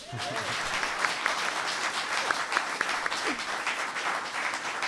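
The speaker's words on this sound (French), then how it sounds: "Applaudissez tous Gaston Berthaud." An audience applauds a guest, a master baker, at a show in Thuin, with sustained even clapping, moderately loud, and a faint voice or two heard briefly over it.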